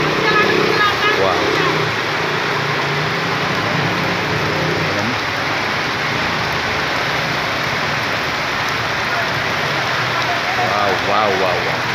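Heavy rainfall in Kirtipur, Kathmandu, a steady dense hiss of rain on surfaces filling the whole span at even loudness, with traffic faintly underneath.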